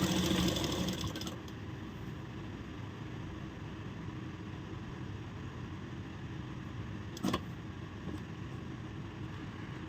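A sewing machine stitches a blouse seam with a steady, even mechanical whirr, close and continuous, with a brief clack partway through.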